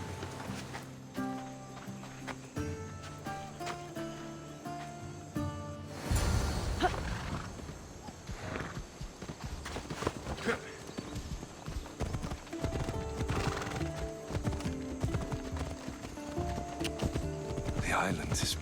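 Horse hooves clip-clop steadily on the ground while riding in Assassin's Creed Odyssey, a rhythmic trotting pattern running under background music, growing fuller and closer after the first few seconds.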